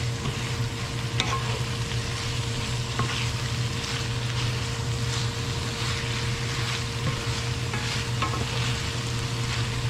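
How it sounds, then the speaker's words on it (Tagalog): Shrimp in oyster sauce and ketchup fries loudly in a pan while being stirred, with a continuous close sizzle, scattered scraping taps and a low steady hum underneath. "Haluin ko lamang po niya nito."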